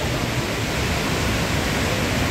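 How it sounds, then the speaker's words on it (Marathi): Thoseghar waterfall roaring as a steady, dense broadband wash of falling water, loud and close with no break or other sound over it. "निसर्गाच्या कुशीमध्ये असलेला धबधबा पर्यटन पाहत आहेत या ठिकाणी"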